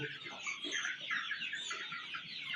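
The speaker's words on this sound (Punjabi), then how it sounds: "ਇਹ ਮੁਰਗਾ ਹੈ ਤੇ ਕਲਗੀ ਵਾਲਾ ਕੁੱਕੜ ਹੈ" Desi chickens on a farm, a crested rooster among hens, keep up a steady stream of overlapping clucks and squawks at close range, with no talking over them.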